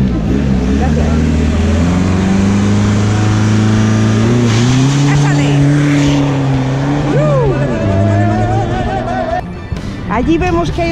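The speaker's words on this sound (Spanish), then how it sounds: "Allí vemos que hay otro vehículo en la línea de salida. Ahí viene." A car accelerates hard off the start line at a driving skill competition in Astorga, León, its engine climbing loud and close through rising revs with a brief gear change near the end.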